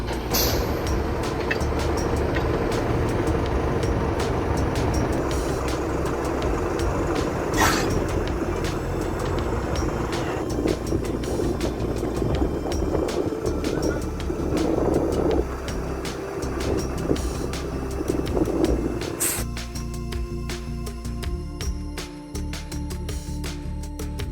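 Heavy excavator with a 300 horsepower engine demolishing houses, a continuous loud diesel roar with crunching, crashing debris and a sharp impact midway, then the engine drones on more steadily.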